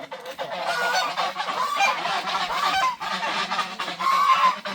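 Several geese honk loudly and close by, overlapping nasal calls that rise and fall in quick bursts for the whole stretch, with no voices.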